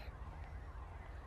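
Police car siren in GTA Online, a steady wailing tone sitting fairly quiet and low in the mix over a rumbling, constant background, with no talking.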